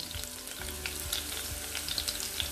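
Cut pieces of ivy gourd (tendli) sizzle loudly and continuously in hot oil, an even, dense crackle with scattered pops throughout.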